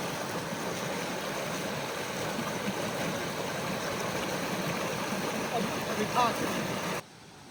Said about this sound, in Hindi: झरने के साथ जो पानी चल के आवाज आ रही है, बड़ा अद्भुत लग रहा है